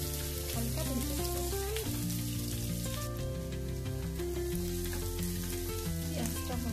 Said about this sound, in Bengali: এখন দিয়ে দেবো কারি পাতা, দিয়ে দেবো পেঁয়াজ লম্বা করে কুচি করে কেটে নিয়েছি।